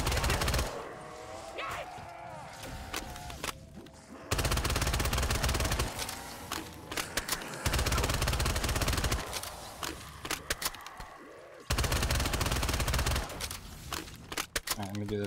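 Bursts of rapid automatic fire from the VMP submachine gun in Black Ops 3 custom zombies, loud and dense with short pauses between volleys, mixed with game effects and a voice talking over it.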